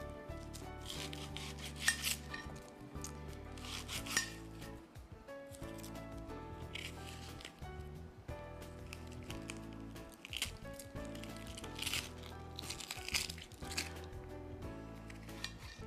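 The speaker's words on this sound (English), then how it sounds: "Let me start out by chopping my onions." Knife thinly slicing onions on a cutting board for a Turkish-style egg brunch dish, giving soft repeated rasping cuts against wood over a steady background hum, with no talking.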